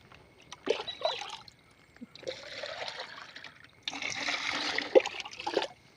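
Water poured in several bursts, added to diluted homemade liquid fertilizer for vegetable seedlings and then tipped out, each pour a close splashing gush with short pauses between.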